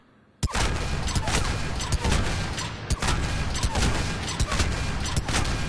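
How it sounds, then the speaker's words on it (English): Saber rifle in Mass Effect 3 fired at point-blank range: after a short quiet moment, a burst of loud, sharp shots begins, with sparse punchy reports and continuous game noise beneath. "So let's check it out at point-blank range."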